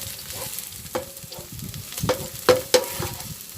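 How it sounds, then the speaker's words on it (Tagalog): Onion and garlic sautéing in hot oil before chicken goes in, a steady close sizzle broken by sharp scraping clicks of a spatula against the pan, with no one speaking. "gigisahin muna po natin yung sibuyas at saka"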